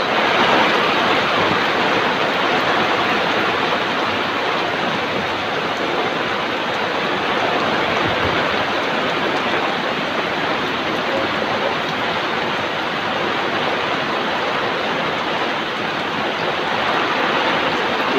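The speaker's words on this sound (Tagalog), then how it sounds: "Malakas ang hangin, malakas pa yung buhos ng ulan." Heavy typhoon rain pours down in a constant broadband roar, strong wind blending into a dense, unbroken wash of noise with no voices.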